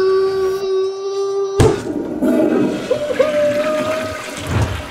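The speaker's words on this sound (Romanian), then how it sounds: "apăsați butonul de scurgere a apei, chiar atât de greu" A toilet flushing after its button is pressed in a real-life restroom, a sudden rush of water that starts partway through and keeps swirling loudly after a steady tone, with a voice faintly underneath.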